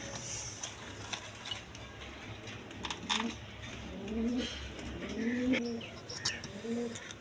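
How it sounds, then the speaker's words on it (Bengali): Pigeons, a pair including a black-tailed male and a khaki-necked hen, coo in low repeated phrases at a farm, several soft calls spaced across a steady background hum with occasional higher chirps. "দর্শকবৃন্দ, এখানে আরেক পেয়ার কবুতর আছে"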